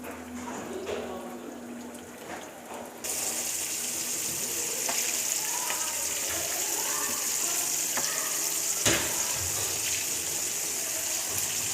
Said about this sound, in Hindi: फिर हमने इसको ऑयल में डाल देना है। ऑयल अच्छे तरीके से गर्म होना चाहिए।